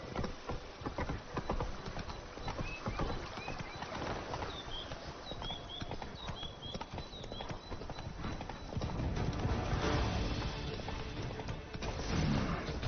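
Roach, a horse in The Witcher 3: Blood and Wine, gallops with steady rhythmic hoofbeats throughout, close and fairly loud, with chirping birds in the background and no talk.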